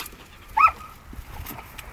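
A seven-month-old Malinois gives one short, sharp bark or yelp during guard training in a field, standing out briefly against quiet background noise.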